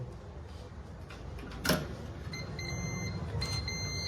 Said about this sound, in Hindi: जब डोर बंद रहेगी तो बीप की साउंड आएगी